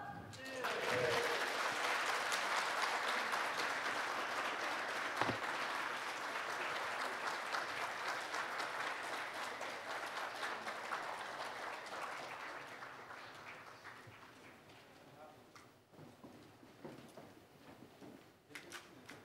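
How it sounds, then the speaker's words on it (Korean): A forum audience at an opening ceremony breaks into loud, sustained applause for a group photo, the clapping dense and full at first, then gradually thinning and tapering into scattered claps toward the end. "파이팅 하면서 박수 쳐주시면 사진 촬영하겠습니다."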